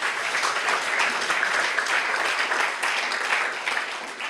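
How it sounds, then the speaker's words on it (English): An audience at an AI school pitch day claps for a team, giving a dense, steady round of applause that carries on without a break and eases slightly toward the end. "So give another clap to the team."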